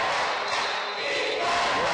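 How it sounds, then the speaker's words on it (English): A football game crowd roars in a loud, dense wash of cheering, a sustained swell of many voices filling the stands for a couple of seconds. "this crowd lighting up now."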